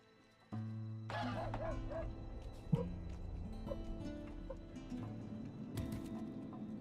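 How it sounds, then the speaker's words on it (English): A dog upstairs in a house barks and yips in short bursts over a steady background of music, the sounds muffled and moderately distant, with a few sharper yelps scattered through. "Sounds like the dog's getting active upstairs."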